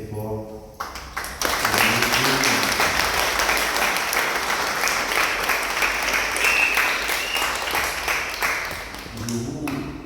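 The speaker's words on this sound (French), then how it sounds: "Je vous demanderai donc d'applaudir très très fort." Wedding guests at a civil ceremony break into loud, sustained applause that lasts several seconds, a dense steady clatter of many hands, with a few voices briefly audible at the start and end.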